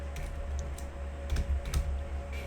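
Fingers type on a computer keyboard in a short, quick burst of light clicking keystrokes over a faint steady hum, close by, with no talking.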